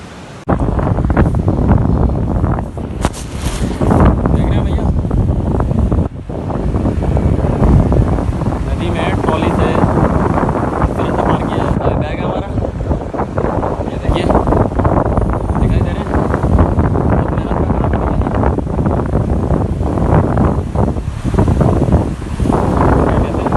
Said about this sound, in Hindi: नीचे नदी है